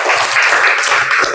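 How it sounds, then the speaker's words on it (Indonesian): Students clap for a classmate during a physical education lesson on locomotor movements, a brief, steady burst of applause that fills the moment without any talk over it. "Kasih tepuk tangan temannya."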